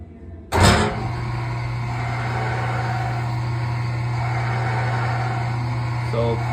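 A Hollymatic 900 EG mixer grinder runs its mix cycle, a steady low motor hum with a mechanical whir that starts abruptly after a sharp clunk and holds evenly near the machine, with a faint clatter near the end.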